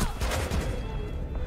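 Rapid shotgun blasts in Rainbow Six Siege, loud and close, in a dense burst of overlapping booms that fills the short moment.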